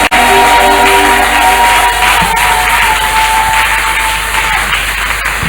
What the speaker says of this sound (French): Est-ce qu'on peut acclamer très très fort?